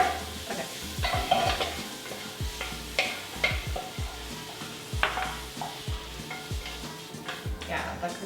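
Mushroom duxelles for beef Wellington being tossed and stirred in a pan: a soft continuous sizzle broken by repeated scraping strokes and metallic clinks of a utensil against the pan, close and fairly loud, with no speech.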